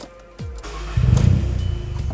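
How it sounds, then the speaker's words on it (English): A Volkswagen Polo 1.0 TSI in anti-theft mode cranks briefly, catches and runs roughly as its engine surges, then begins to falter, a close, loud start-up with a pulsing idle and no one talking. "The car just starts and stalls."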